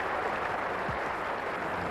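A crowd at a 1994 New Zealand versus Pakistan Test cricket match in Wellington applauds a departing batsman, a steady, even wash of distant clapping with no voices over it.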